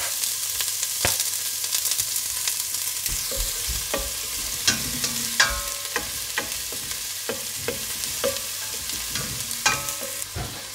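Garlic and onion sizzle steadily in hot olive oil in a pot, with repeated sharp stirring clicks and scrapes of a utensil against the pot over a constant frying hiss, close and clear, no voices.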